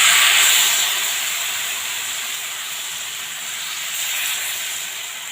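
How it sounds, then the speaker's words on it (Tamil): Thin rava dosa batter sizzles on a hot pan with a loud, close, steady hiss that starts strongest and eases slightly as it cooks. "பாருங்கள், இப்போ தோசை ஊற்றிக்கலாம்."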